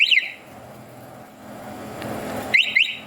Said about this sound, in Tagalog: Honda Click version 3 na linagyan ko ng alarm.